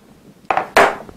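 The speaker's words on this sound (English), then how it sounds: "So when you go to screw this in, just barely press your Allen wrench in there." Allen wrench screwing a plug into a rifle bolt, a few close, sharp metallic scrapes and clicks in quick succession with no talk.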